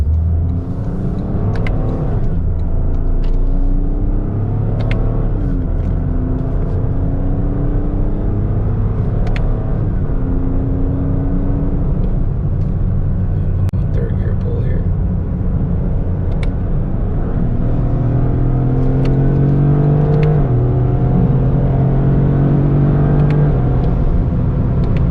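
A 2025 Toyota GR Corolla with automatic transmission revs steadily while driving, its engine drone rising and falling through gears in a continuous loud close cabin rumble.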